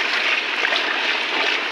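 Floodwater rushes over the new Kirlos bridge in Malvan, Sindhudurg during heavy monsoon rain, a steady close broadband roar of flowing water.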